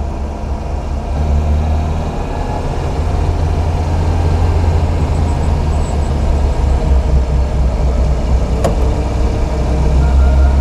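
A 1954 Alfa Romeo 1900C SS in unrestored original condition drives through winding hairpin bends, its engine a loud, steady low drone with constant road and wind rush throughout and no voices.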